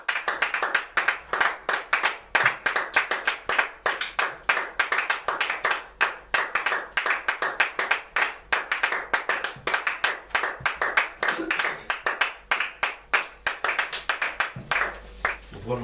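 A church congregation claps in praise, a brisk, rhythmic run of many hands that continues loud and steady before tapering at the very end.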